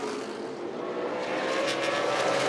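Super late model stock cars roar into the turns at Southern National during the Thanksgiving Classic, a dense pack of engines blending into a steady, loud drone that swells slightly as the group nears.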